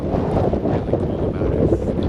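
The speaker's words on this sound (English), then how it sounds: "as soon as I finished my 3 wishes and stepped outside of the ruins of the church, it got windy." Strong wind buffets the microphone at church ruins in Iceland, a constant low rumbling roar with no break.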